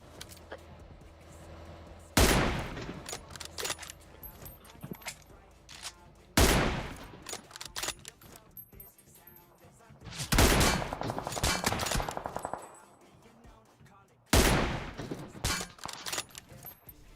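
Gunfire in the mobile game PUBG Mobile, four loud bursts of shots and rapid fire spread across the stretch with quieter game ambience between them.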